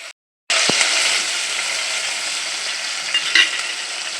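Green chillies frying in a hot pan give off a steady, close, loud sizzle that starts abruptly after a brief silence, with a few scraping stirs partway through.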